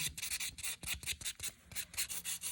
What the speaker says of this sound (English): going in with our gray buffer to finish file